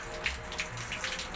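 Water poured into a container planted with water spinach (kangkong), soft splashing and trickling with a few small bursts, faint and close, no talking.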